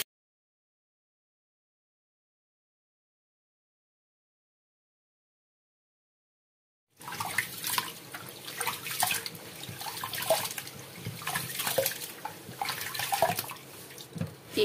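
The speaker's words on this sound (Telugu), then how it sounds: "ఈ రైస్ని మనం చక్కగా వాష్ చేసేసుకుందామండి" Rice is washed by hand in water while preparing mango pulihora: after a long stretch of silence, close, moderately loud splashing and sloshing runs through the second half with no talk.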